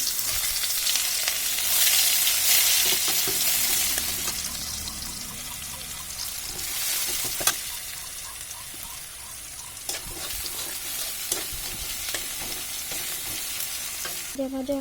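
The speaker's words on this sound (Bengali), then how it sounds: "এখন দিয়ে দেবো তেলের উপরে এগুলো। এখানে চলে যাচ্ছে পেঁয়াজ।" Onions frying in oil in a pan, heard as a loud, continuous sizzle with stirring and scraping throughout and a few sharp clicks of a utensil near the end.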